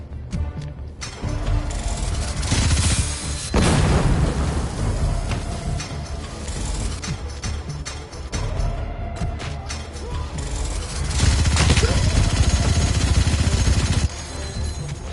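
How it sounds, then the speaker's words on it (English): A Gatling gun firing in the video game Two Heads: Jesus Mode, a dense continuous rattling roar in long sustained bursts with brief pauses between, loud and close. "Gatling gun."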